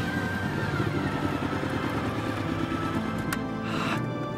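A motorcycle engine drones steadily as the bike is ridden, holding a constant pitch at moderate distance with a sharp click near the end.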